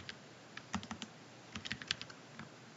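Keys clatter on a computer keyboard as code is typed into R, a sparse, irregular run of quiet, close clicks with short pauses and small bursts between them.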